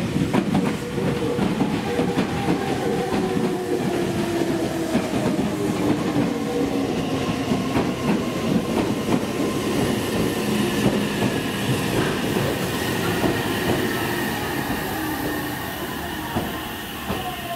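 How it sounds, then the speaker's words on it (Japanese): Meitetsu train pulling into platform 4 at Sukaguchi Station, a loud close rumble with clattering wheels and rising squeals of wheels and brakes sustained throughout, fading slightly near the end. "4番線に電車が参ります。"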